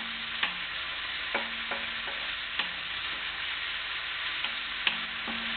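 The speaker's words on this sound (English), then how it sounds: "And let me give this a quick stir through." Garlic is stirred into a tomato sauce in a pan, with steady sizzling from the pan and several spoon scrapes and clinks repeating at intervals; no talking.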